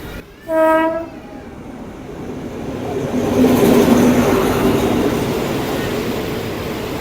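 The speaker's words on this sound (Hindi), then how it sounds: "ट्रेन चल पड़ी है" At a railway station in Thailand, a train sounds a loud horn blast. Then comes a rising, sustained rumble of the train pulling away with rolling wheel noise.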